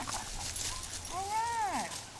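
A dog lets out a single drawn-out, rising and falling whimper at close range, heard alone against quiet outdoor background during an off-leash test alongside another dog.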